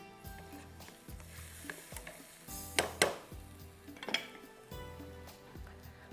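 Peas cooking in a pan, with a steady low sizzle under repeated clinks and scrapes of a utensil against the pan, several louder clatters near the middle, and no talking.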